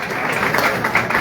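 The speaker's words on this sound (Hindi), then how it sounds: "तो दोस्तों अब तालियां तो होनी चाहिए।" Applause from an audience at a pigeon-keeping prize-giving ceremony, a short burst of steady crowd clapping heard up close without talk.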